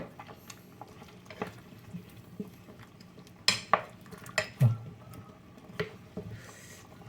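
Potatoes being stirred down into a pot of chicken massaman curry, with a spoon clattering and scraping against the metal pot in irregular bursts, close by, over a soft simmering background.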